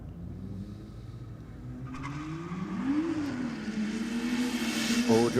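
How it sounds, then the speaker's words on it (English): Subaru and Ford Falcon cars launching and racing side by side down a drag strip at a 4x4 theme night, engines droning and rising in pitch as they pull away, a steady loud roar with tire noise. "All drive helped the Subaru off the line, but Falcon comes through with a bit more power up the top end here"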